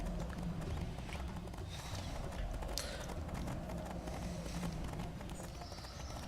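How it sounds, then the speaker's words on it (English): Galloping horse hooves in the video game Riders of Icarus, a steady quick clip-clop rhythm running throughout at a fairly low level. "I'm gonna run off into the sunset on my horse, Unicorn."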